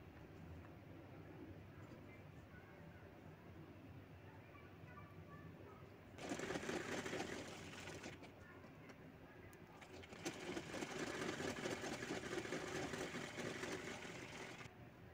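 A sewing machine stitching a seam on a small handbag, running in two bursts of fast, steady mechanical whirring over a quiet room hum, close and moderately loud.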